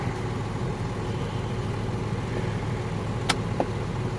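A tractor engine runs steadily with the throttle set a little above idle, a continuous low mechanical drone at close range with a couple of brief sharp clicks near the end.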